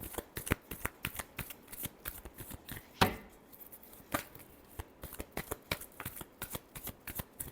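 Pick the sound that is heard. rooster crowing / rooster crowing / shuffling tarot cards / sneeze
shuffling tarot cards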